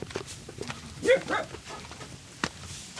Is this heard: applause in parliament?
no